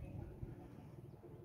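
Pigeons coo softly on a sunny rooftop in hot weather, low murmuring calls that are faint and somewhat distant against quiet background noise.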